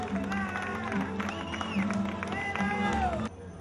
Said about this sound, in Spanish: Que se escuche el fuerte aplauso de todos los presentes